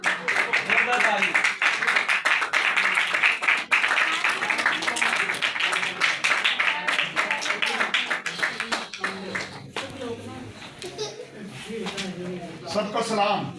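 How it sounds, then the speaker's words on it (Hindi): Loud audience applause at a church gathering as a pastor is welcomed forward, dense sustained clapping that is strongest early and gradually thins out, with voices talking over it. "जोरदार ताली।"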